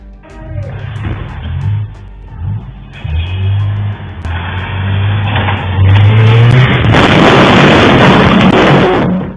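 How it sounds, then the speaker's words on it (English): A truck rams a property's door during a robbery in Cancun: loud engine revving and surging, then a heavy crashing impact that builds into sustained loud noise, with no talk. "They rammed the door with a truck"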